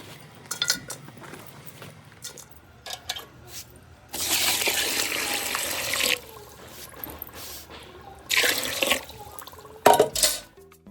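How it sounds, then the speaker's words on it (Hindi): Water splashes and runs in bursts while a clay mud kitchen is washed down, with intermittent clatter of utensils and pots between the louder pouring spells, close and uneven. "उसके बाद यहाँ पर पानी से साफ़ कर देते हैं।"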